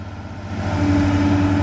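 Old Kobelco SK200-1 and Komatsu PC200-3 excavators with direct-injection diesels, the Kobelco on a Mitsubishi 6D31, running nearby: a steady low rumble with a droning hum that grows louder and holds as one engine revs up.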